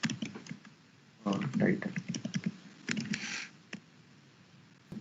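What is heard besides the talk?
typing HTML code on a computer keyboard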